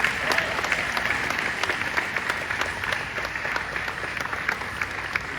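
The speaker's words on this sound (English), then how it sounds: "Y'all better clap for this man." An audience claps steadily for actor Giancarlo Esposito, a dense run of many hands with sharper individual claps standing out near the front, with no speech.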